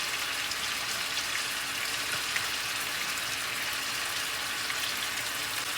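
Meatballs sizzling in an oiled pan, a steady, even crackle and hiss of frying that holds unchanged throughout, with no talking over it.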